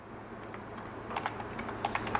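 Quiet typing on a computer keyboard while entering an email address, a quick uneven run of soft key clicks that speeds up in the second half over faint room hum.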